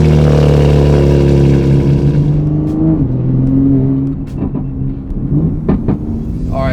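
A modified BMW G80 M3 revs hard and pulls away, its deep engine note climbing through loud close rising sweeps, then easing with crackles and pops as the pull fades.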